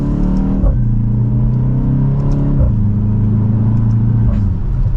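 A 2024 BMW X1 M35i with a four-cylinder engine revs hard in second gear in sport mode. The exhaust note rises, a quick upshift or lift breaks it, and the revving builds again, loud and close from inside the cabin.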